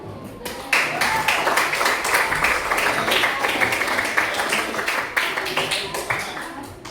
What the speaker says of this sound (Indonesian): sebelum masuk materi kita tepuk tangan dulu